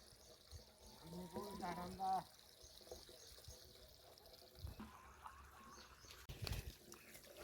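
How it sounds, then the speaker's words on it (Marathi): Water pours from a filled container and spills over onto the ground and plants outdoors: a faint, uneven trickle and splash, with a voice speaking briefly over it. "हे पहा आपलं पाणी चाललेलं आहे"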